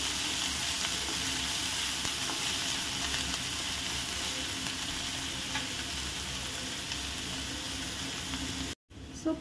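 Finely chopped onion, added after garlic, sautéing in a pan until golden brown: a steady, close hiss of frying that runs continuously, with occasional stirring, before a brief dropout near the end.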